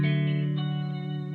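Fender Squier Jaguar electric guitar through a 1965 Fender Super Reverb amp on the vibrato channel with a touch of reverb, a single sustained chord ringing out loud and clear, then slowly decaying.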